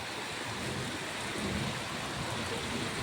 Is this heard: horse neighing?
no